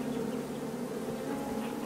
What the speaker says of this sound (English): Shame about that buzzing beehive, though.